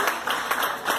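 A church congregation applauding during a Mother's Day service, a steady wash of many hands clapping with no voices over it.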